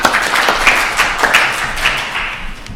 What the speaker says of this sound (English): Robin Smith, spontaneous round of applause